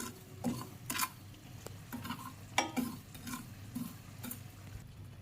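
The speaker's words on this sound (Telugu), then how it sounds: "10 గ్రామ్స్ మెంతులు, 10 గ్రామ్స్ జీలకర్ర, 20 గ్రామ్స్ ఆవాలు కలర్ మారేంతగా వేడి చేయాలండి" Fenugreek, cumin and mustard seeds roast in a dry pan, heard as soft, faint scraping stirs and light rattles recurring roughly every half second to second over a quiet low hiss.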